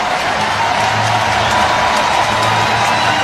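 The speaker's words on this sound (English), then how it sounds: "Listen to this crowd" Large baseball stadium crowd at American Family Field roaring and cheering in a dense, continuous wash of noise with scattered claps and whoops, sustained loudly throughout a tense late-inning moment.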